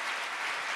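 A church congregation applauds in praise of God, a dense, even wash of many hands clapping at once, brief and continuous with no voices standing out.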